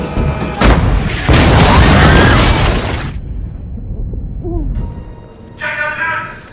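A cannon is fired at a building in a film scene. Heavy booming blasts are mixed with crashing and shattering debris, then the noise fades into rumble and a final burst of scattered clatter.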